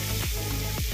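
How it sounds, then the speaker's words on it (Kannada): Onions sizzle steadily in a hot pan while being fried for sabudana poha upma, a continuous close frying hiss with a couple of brief stirring scrapes and no voices. "ನೋಡಿ ಹೇಗೆ ಫ್ರೈ ಆಗ್ತಿದೆ ಅಂತ. ಈ ಥರ ಫ್ರೈ ಆಗಬೇಕು."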